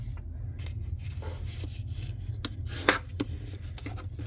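A card-stock piece is creased into a mountain fold, giving soft rubbing and scraping with a few sharper crease snaps, close and quiet over a steady low background hum.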